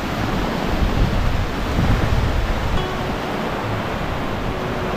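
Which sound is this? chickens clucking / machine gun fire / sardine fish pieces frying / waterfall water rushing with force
waterfall water rushing with force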